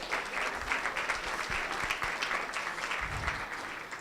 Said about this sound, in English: we'll give you a big applause.